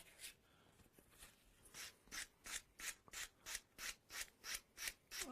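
A pool cue tip sanded with a finer-grade abrasive while the cue is turned, giving soft, quick, evenly spaced rubbing strokes that start faint and irregular and then settle into a steady close rhythm, with no talking.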